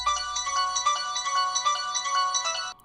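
A trap beat made with stock plug-ins plays a bright, bell-like synth melody in a pulsing rhythm with the Gross Beat effect toggled, then cuts out abruptly near the end.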